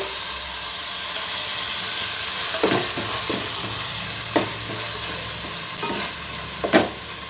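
Onion paste sizzles steadily in a hot pan for a wedding-style methi paneer gravy, with a constant frying hiss broken by a few sharp scraping stir strokes; no voices.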